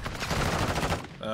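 Rapid automatic gunfire in a shooter video game, a dense continuous burst of loud cracking shots that cuts off abruptly near the end, followed by a brief tonal sound.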